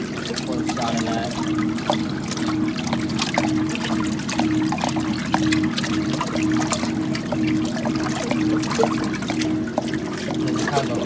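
Water drawn steadily through the middle of a boat's lint filter as antifreeze-tinted water flows in, a continuous turbulent trickling and gurgling with a low steady hum beneath, close and constant throughout.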